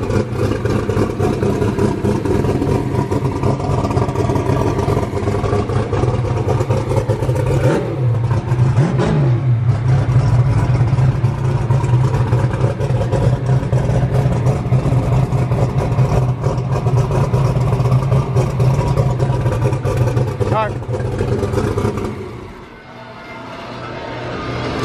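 A car engine in private track testing idles with a steady, loud low rumble, swells through a couple of revs partway through, then holds a strong idle before dropping off near the end.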